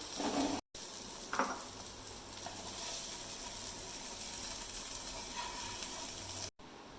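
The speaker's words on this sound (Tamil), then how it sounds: "நல்லா வறுவல் போல் வறுத்து எடுக்கணும்." Quail eggs frying with masala in a pan give a steady, even sizzle with a couple of faint scrapes early on, fairly quiet and continuous.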